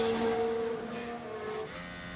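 A McLaren Formula 1 car in F1 Manager 2023 drones past with a high, tonal engine whine holding steady and then shifting pitch slightly, heard alone with no talking.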